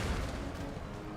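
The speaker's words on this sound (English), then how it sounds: "enemy cannon fire, which lands pretty darn well" Distant, muffled boom of enemy cannon fire in Empire: Total War, a low rumbling report rolling briefly beneath the battlefield ambience.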